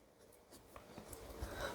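A pen scratching on paper while a Class 8 maths problem is worked out, producing faint, quiet, irregular strokes and taps in a hushed room without talk.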